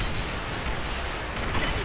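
Missile blasts slam into the player's mech in Armored Core V, a dense, noisy wash of explosions and impacts that stays loud and close throughout.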